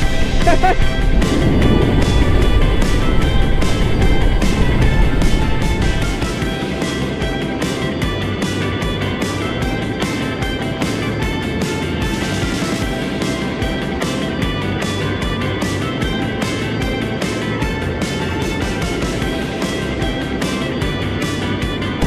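A Lambretta G350 premium classic-style scooter rides at speed, its steady engine drone blended with heavy wind roar, louder for the first few seconds and then holding level and continuous.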